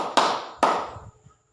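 Students in a classroom clap in unison as part of a counting clap routine, two crisp, evenly spaced group claps, close and loud, then brief faint noise.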